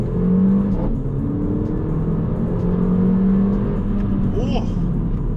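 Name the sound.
car accelerating hard in second gear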